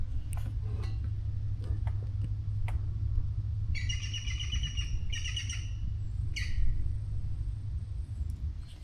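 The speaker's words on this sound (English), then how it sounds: "we have a little woodpecker" A small woodpecker calls beside the Danube at a camp, giving several short, bright bursts of sharp notes over a steady low outdoor rumble, with a few faint ticks and chirps around them.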